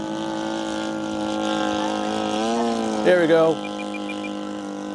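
A 77-inch-span RV-8 model airplane engine runs slightly rich in flight, giving a steady, buzzing drone whose pitch wavers and dips. Someone briefly speaks over it midway.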